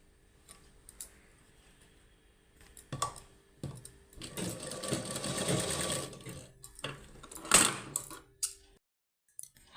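Sewing machine stitching the side seam of palazzo fabric, heard in a steady whirring run of a few seconds with short bursts and stops before and after, close and fairly quiet, with no talk.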